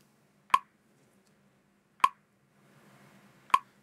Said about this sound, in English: We're going to use a metronome to help us keep pace.